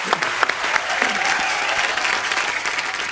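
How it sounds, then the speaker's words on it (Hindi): A studio audience at The Kapil Sharma Show, a TV comedy show, gives strong applause: continuous, full clapping from many hands with a faint crowd murmur beneath. "इस बात के लिए जोरदार तालियां"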